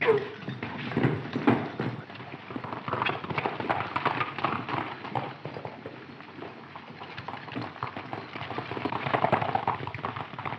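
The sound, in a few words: horses' hooves clip-clopping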